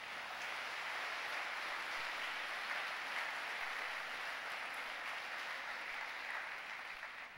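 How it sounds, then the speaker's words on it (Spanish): A church congregation applauds during a sermon, a faint, even, distant patter of many hands that holds steady and tapers slightly at the end. "Dele un fuerte aplauso al Señor."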